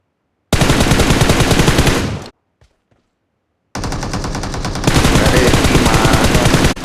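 Gunfire in the mobile shooter BGMI: loud, rapid automatic bursts at close range, a long burst, a short gap with faint shots, then sustained continuous fire to the end.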